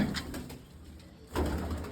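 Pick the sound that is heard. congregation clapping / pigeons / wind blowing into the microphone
pigeons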